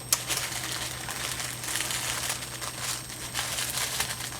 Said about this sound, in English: try to tear as little of that tissue paper as possible